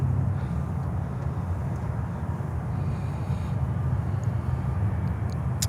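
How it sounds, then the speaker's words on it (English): An Atlas Air Boeing 767 jet at Miami airport gives a steady, low engine rumble, continuous and moderately distant, with no talking. "An Atlas Air 767 that looks like a maintenance flight."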